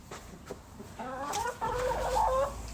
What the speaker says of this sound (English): So I have 3 pets, 3 chicken, 1 rooster and 2 hens.